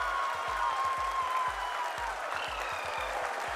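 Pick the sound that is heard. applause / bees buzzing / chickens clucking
applause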